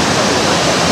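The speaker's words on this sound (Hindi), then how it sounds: "और लहरों की आवाज़ आपको सुनाई दे रही होगी।" Sea waves break on the beach at Fort Aguada, Goa, in the early evening, making a loud, steady, full rush of surf with no gaps.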